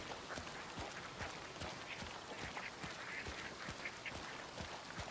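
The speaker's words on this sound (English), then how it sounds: "There are ducks also here." Ducks quacking in Hunt: Showdown, a steady chorus of repeated quacks over a constant rainy ambient wash, moderately distant and continuous throughout.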